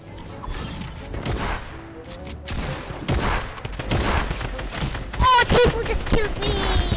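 Rapid video-game gunfire crackles through a Fortnite-style battle royale team rumble, bursts overlapping with mechanical clicks and thumps under a steady stream of excited player talk.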